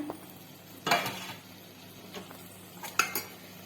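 A plate resting as a lid on a cooking pot is lifted off, giving two short metallic clinks about two seconds apart, close and fairly quiet.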